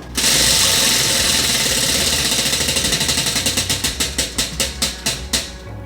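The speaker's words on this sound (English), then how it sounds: "Christine, spin that wheel." A prize wheel spun by hand gives off a loud, rapid ratcheting clatter of pointer clicks that gradually slow and spread apart until the wheel comes to rest.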